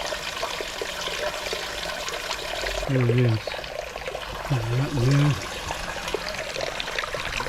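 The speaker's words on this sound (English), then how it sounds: "Coming down from a big pipe from up yonder there." Water pours steadily out of a big pipe beside a small shrine on Yonaguni Island, Okinawa, a continuous close rushing trickle with someone speaking briefly over it.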